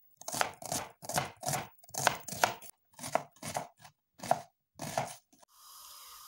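An onion is chopped finely with a knife for a meat and herb stew: about a dozen crisp, close strokes in quick clusters with short pauses, ending in a soft steady hiss.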